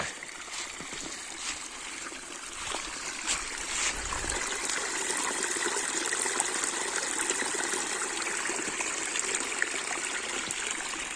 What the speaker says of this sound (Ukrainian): Тут у нас тече струмок.